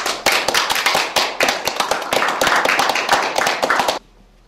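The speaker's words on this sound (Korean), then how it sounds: "박수 쳐주시죠" Applause at an official investment agreement signing ceremony, loud close claps in a fast, uneven burst from a small group, lasting about four seconds before stopping abruptly into quiet room tone.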